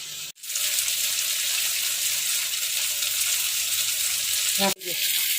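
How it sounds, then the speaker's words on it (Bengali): Spice paste of cumin powder, ginger-chilli paste and tomato frying hard in a pan, a loud, continuous close sizzle broken by two brief pauses where a stirring scrape and clink cut through. "জিরার গুঁড়া, আদা লঙ্কা বাটা, আর হলো টমেটো, এটা দিয়ে আমি এখন কষবো ভালো করে।"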